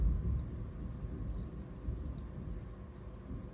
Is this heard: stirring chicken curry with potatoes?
no